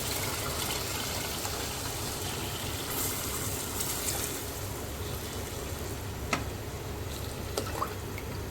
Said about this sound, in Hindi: इसके साथ ही मैं डालूँगी इसके अंदर पानी, जिसको आपने आराम आराम से डालना है